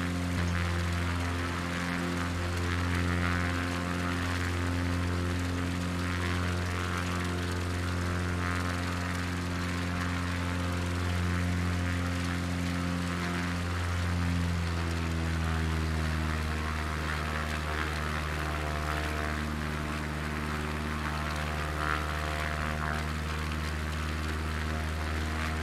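An aircraft climbing in Microsoft Flight Simulator 2020 over Araraquara, São Paulo, a steady droning engine hum with a drifting low tone that holds continuously, fairly quiet and alone.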